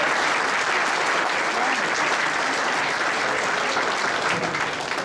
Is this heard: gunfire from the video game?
no